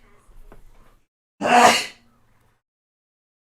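A single sharp sneeze bursts out loud and close after a few quiet breathy sounds, then silence follows, during a Unity game development session.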